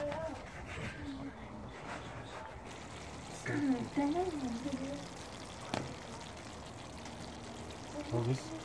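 Water poured into a pot while cooking lamb in tomato gravy outdoors, a soft trickling splash at moderate distance, under low background talk and ambient noise.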